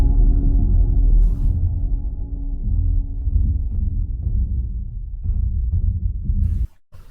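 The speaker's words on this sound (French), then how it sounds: "c'est le son du toboggan du coup qui vibre" A metal slide vibrates in a scene from the film Sound of Metal, heard as a deep, muffled, continuous rumble and throb that cuts off abruptly near the end.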